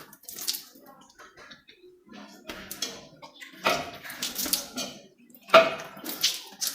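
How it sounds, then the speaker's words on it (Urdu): Water splashing and dripping at a tap during wudu ablution, with irregular splashes and trickles and a couple of sharper bursts, heard up close alongside some faint movement. "پھر ناک میں پانی ڈالیں گے۔"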